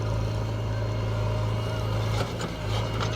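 A JCB 3DX backhoe loader loading murram into a tractor trolley runs with a loud, steady diesel drone, a constant low hum with brief shifts in load, close and unbroken.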